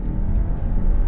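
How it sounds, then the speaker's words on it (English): CUPRA Formentor 310hp engine rising in a steady low rumble as the automatic gearbox kicks down from third gear around 2,500 rpm, heard from inside the cabin with no talk. "the car does automatically the kick down"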